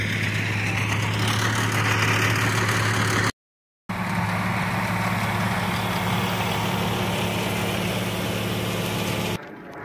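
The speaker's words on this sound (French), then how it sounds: "Là, il y a un tracteur qui fait du bruit." A tractor engine runs close by on a rural stretch of the Camino, a loud, steady low rumble that holds throughout, briefly cut out midway.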